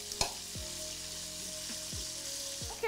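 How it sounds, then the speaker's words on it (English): Chicken pieces frying in hot Power Oil in a pot give a steady close sizzle and crackle, with a few brief stirring knocks and clatters of the pot throughout. "this is one fast way to spice up the chicken while it's frying"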